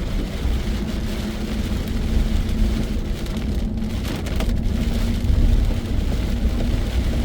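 Heavy tropical storm rain pounds down in a dense, loud, continuous roar, heard from outdoors near a cornfield with a low rumble underneath.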